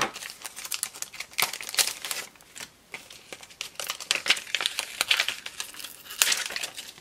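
Puffy sticker packaging being cut open up close, with crisp plastic crinkling and snipping in irregular bursts and short pauses between.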